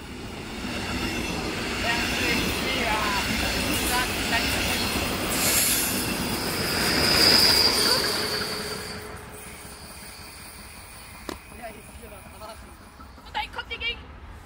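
DB class 111 locomotive hauling double-deck coaches passes through Neuss station: a loud rolling rumble with high wheel squeal, fading after about eight seconds. A few clicks and nearby voices follow.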